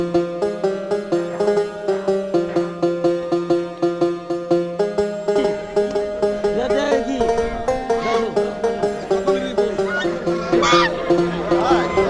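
Geese honking repeatedly at a busy pigeon market, loud rhythmic calls close by over a babble of crowd noise and background chatter.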